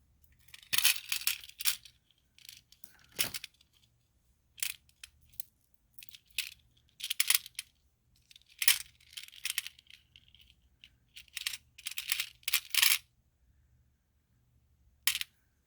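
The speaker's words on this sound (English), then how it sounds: "Let's get a dish out so I can put these beads in it to it." Beads dropped and poured into a dish for jewelry making, with a run of close, bright clinks and small rattles in irregular clusters separated by short silences.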